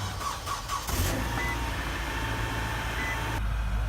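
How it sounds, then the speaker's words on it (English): A 2007 Nissan Sentra engine runs after a cold start at about 15 degrees, a steady low idle rumble close by that holds evenly throughout with a brief louder rise near the start. "This is the car running."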